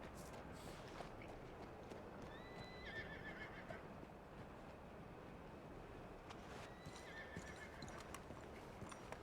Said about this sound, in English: We'll go to a nice open area before I call my horse.